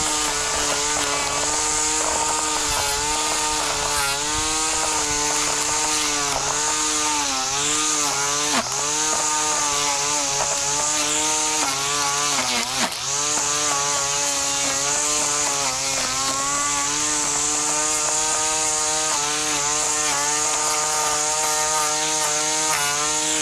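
A Yuewxter weed eater string trimmer, used as an edger, runs continuously at a loud, steady high-pitched whine, with slight pitch dips as the line bites into grass and soil edges.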